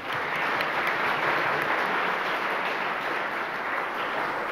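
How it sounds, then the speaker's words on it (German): Applause fills a university auditorium at a graduation ceremony for a department of automation and computer science, a dense, loud, continuous wash of many clapping hands without a break. "Applaus"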